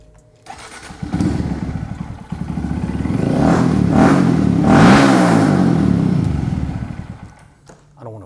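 A 2022+ Honda Grom motorcycle with a Yoshimura exhaust cranks over and starts, then its single-cylinder engine idles and revs in rising and falling bursts, loud and close in an indoor studio, before settling back down.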